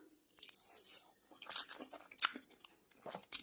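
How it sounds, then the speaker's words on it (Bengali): Rice eaten with mashed giant taro (mankochu bhorta), close up: soft wet mouth sounds and chewing with a few sharper crunchy bites, quiet and intermittent with no talking. "আজকে আমি এই মানকচু ভর্তা দিয়ে ভাত খেয়ে নেব।"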